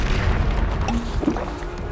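A Bombarda blasting spell goes off in Hogwarts Legacy: a single heavy booming explosion with a rumbling low tail, loud and close, followed by a few faint game effects.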